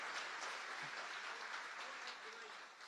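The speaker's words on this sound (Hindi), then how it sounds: "give a big round of applause for these people who are sitting here" An audience at a convention claps steadily, a dense, even wash of applause that holds for the whole stretch and tapers slightly at the end, with a faint voice underneath.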